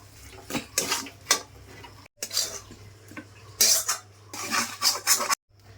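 A cooking pan used for a mashed kochu-leaf and drumstick-leaf bharta is lifted off the stove, with several metallic clanks and scrapes of the pan and utensils in bursts, close and fairly loud, with no talk.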